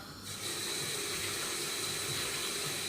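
Tap water runs steadily into a sink while food is rinsed, a close, even hiss that starts after a brief moment and continues without talking.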